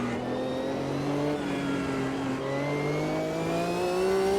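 Race car engine in the Automobilista 2 sim during a one-hour endurance race at Interlagos, a steady loud drone with rising and falling harmonic pitch as the car accelerates through gears, continuous with no voices.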